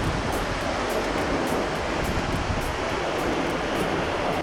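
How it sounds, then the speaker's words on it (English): Rainbow Falls, a huge waterfall in Nongriat near Cherrapunji, heard from close range as a loud, steady, dense roar of crashing water that never lets up. "Very rarely you can experience such humongous waterfall from such close proximity."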